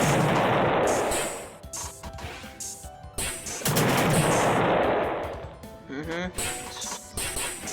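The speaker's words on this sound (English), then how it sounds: "Gotta love that stock blowing up sound effect, don't you?" Rocket launcher blasts in a Touhou-style fangame set off stock explosion effects: two long booming roars with rumbling tails, mixed with sharper bangs and crunches, loud and close, over game audio.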